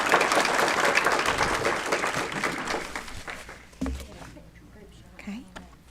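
Audience applause at a school board of education meeting honoring a staff member, dense clapping at first that thins and fades out over a few seconds as a voice begins to speak.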